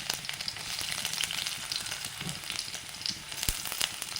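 Chopped garlic, cut lengthwise, sizzles and crackles in hot oil for paneer chilli, a close, continuous bright frying hiss with occasional pops and a stir clank.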